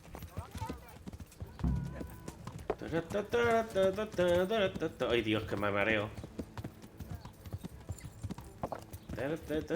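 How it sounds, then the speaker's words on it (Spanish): A horse in the video game Kingdom Come Deliverance clip-clops along in a steady rhythm of hoofbeats, close and clear, while someone talks and reacts over it at times. "¡Anda, mira un caballo!"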